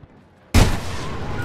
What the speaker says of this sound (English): it will let you fire continually for 3 seconds straight without overheating your weapon